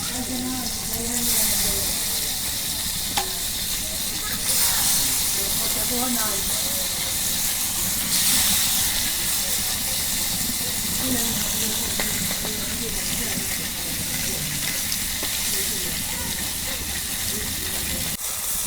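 A big fish head and pieces of barricade fish frying in oil make a steady, loud hissing sizzle that runs the whole time, with faint voices in the background.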